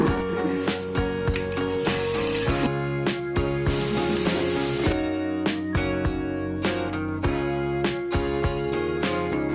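Ground green chilli paste hits hot sesame oil for gongura thokku, giving two loud bursts of hissing sizzle over steady background music.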